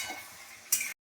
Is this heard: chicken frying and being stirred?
yes